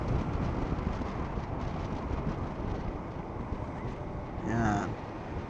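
Heavy wind buffets a motovlogging microphone on a DJI Osmo Action 4 camera on a moving motorcycle, a constant roaring rumble with a brief whine near the end.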